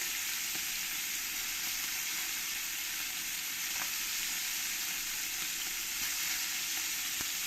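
Small puti fish sizzling in hot oil in a pan, a steady dense hiss of frying with faint occasional pops and crackles, no voices.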